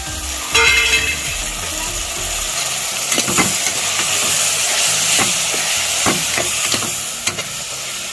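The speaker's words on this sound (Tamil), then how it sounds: "மசாலாவை எண்ணெயிலே வதக்கிட்டு" Masala sizzling steadily in hot oil for mutton chukka, a constant frying hiss broken by repeated scraping stirs of a spoon against the pan, close and fairly loud, with no talking.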